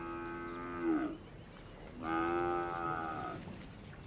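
Cattle on a Kenyan farm low twice in a row, a long harmonic moo followed after a pause by a second, longer one, both close and loud over light outdoor background noise.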